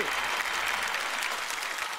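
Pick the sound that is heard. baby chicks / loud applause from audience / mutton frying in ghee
loud applause from audience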